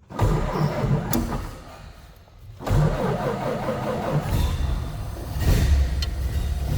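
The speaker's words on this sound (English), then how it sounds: "Turn the key on and push button start down below." A 1931 Ford Model A four-door sedan is started with the key and a push-button starter. The starter cranks briefly, pauses, then the engine catches and runs with a steady mid-pitched idle close by.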